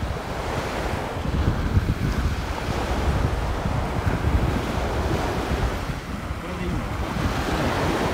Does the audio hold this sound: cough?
no